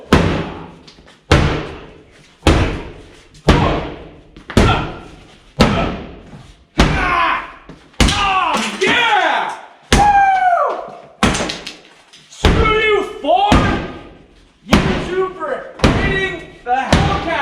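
A big hammer repeatedly smashing the body of a Mustang car, about a dozen loud, close metallic slams at a steady rhythm, each ringing briefly, with shouting voices between blows.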